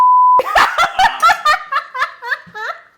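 A sharp, steady censor beep tone lasts under half a second at the start, followed by bursts of giggling and laughter from a mukbang chat that come in rhythmic pulses and gradually taper off.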